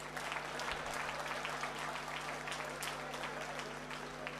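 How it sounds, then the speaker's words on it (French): A crowd at an anniversary celebration applauds in a dense, continuous wash of clapping at a fairly faint, distant level, with a steady electrical hum underneath. "Applaudissez pour moi"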